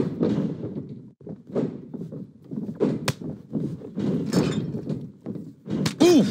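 Heavy thuds from elbow strikes in a WWE 2K wrestling match, several dull blows landing in quick succession over constant crowd noise and commentary, with one sharper crack near the end.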